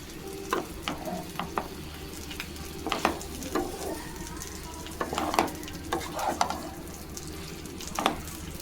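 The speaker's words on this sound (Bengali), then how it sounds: "এইভাবে আমি নেড়ে নেবো, নেড়ে শুকনো শুকনো করে নেড়ে।" Ginger and garlic fry in a pan with a steady low sizzle while a spatula stirs and scrapes in repeated short strokes, close up and with no voices.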